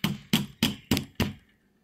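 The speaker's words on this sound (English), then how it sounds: "Actually this, the hammer." A hammer strikes a hard plastic Easter gem dig kit five times in an even rhythm, each blow a sharp, loud crack that quickly decays, with silence after the last hit.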